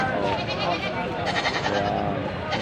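Goats on a goat farm bleat repeatedly and close by, overlapping cries over a busy background with people talking.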